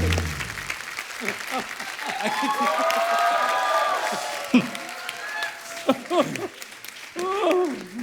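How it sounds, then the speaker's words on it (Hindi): A studio audience at a comedy show applauds and cheers to welcome Jeetendra and Ekta Kapoor, a steady wash of clapping and crowd noise lasting several seconds, with a host's voice heard over it. "प्लीज एक बार जीतू सर और एकता जी के लिए जोरदार तालियां।"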